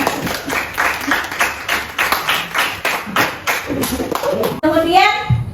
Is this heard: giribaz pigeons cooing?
no